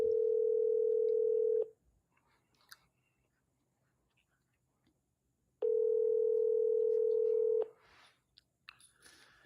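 Outgoing phone call ringback tone going unanswered: two long steady electronic rings about four seconds apart, separated by near silence with faint small noises.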